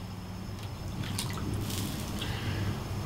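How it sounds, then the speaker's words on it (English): Boiled hot dogs lifted out of the pot drip water back down, soft wet trickles and patters close by over a steady kitchen background, with no talking. "Let's take the hot dogs out. We're just gonna drip them off."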